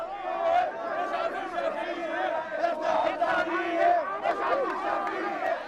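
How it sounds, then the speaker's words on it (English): A dense protest crowd shouts and roars near the Parliament buildings, trying to push through a police cordon to confront the prime minister; many overlapping voices yell continuously at close range. "The crowd tries to break through the cordon to harangue Prime Minister Shafiq at the Parliament buildings"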